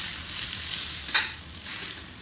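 Green chillies and country tomatoes sauté in a pan for tomato pachadi, a soft continuous sizzle with a brief louder stir-scrape in the middle, close and without speech.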